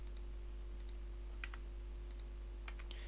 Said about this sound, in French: après j'appuie sur supprimer au clavier